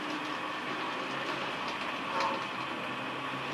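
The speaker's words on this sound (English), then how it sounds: "So the gas electric is backing now into track number 3 in the station." A gas-electric railcar backs slowly into a station track on a model railroad. A faint, continuous rolling rumble with light clicking runs throughout and swells briefly near the end, with no voices.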